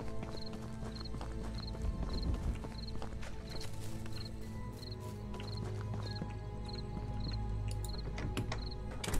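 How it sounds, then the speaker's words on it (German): Running footsteps of the player character in the horror game The Beast Inside, quiet, evenly spaced light taps in a quick steady rhythm over a low ambient game background. "Also es ist sehr leise, die eigenen Schritte."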